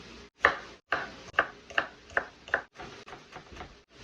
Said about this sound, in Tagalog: Chop na natin yung ating garlic.